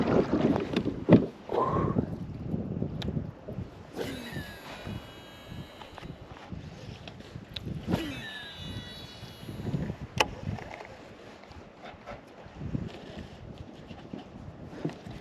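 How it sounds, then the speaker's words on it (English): A kayak is paddled on open water in wind, with soft splashes and knocks of the paddle under a steady rush of wind buffeting the microphone, fairly faint overall. "So let's get kayaking. Let's get paddling up there."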